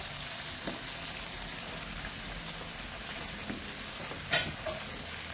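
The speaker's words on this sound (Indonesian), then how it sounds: "Dan minyak itu akan menggoreng si bumbunya." Rendang spice paste frying in hot oil, a steady dense sizzle and crackle across the whole stretch with a few brief stirring clicks, close and even, with no talking.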